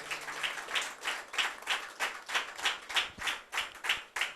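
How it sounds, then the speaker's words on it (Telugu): A congregation claps loudly in praise during a church gathering, producing a rapid, continuous wash of handclaps with no one speaking. "గట్టిగా చప్పట్లు కొట్టి"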